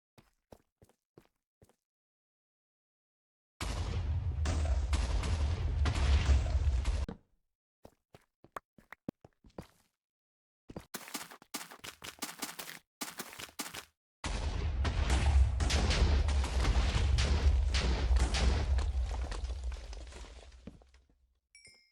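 Minecraft explosions blasting through deepslate underground, two long roaring bursts of rumbling blast noise separated by a stretch of scattered crackling debris, loud and close with no talking.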